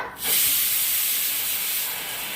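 A sharp burst of steam hisses out loudly and keeps rushing steadily, like a pressure cooker venting, with no voices.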